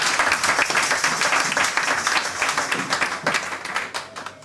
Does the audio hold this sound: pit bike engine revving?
no